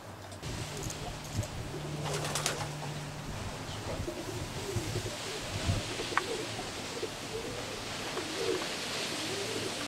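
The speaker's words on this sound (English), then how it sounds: "This is a scene inside Steve's young bird section." Young racing pigeons coo softly and continuously inside the young bird section of a loft, with faint rustling and occasional wing flutters in the background.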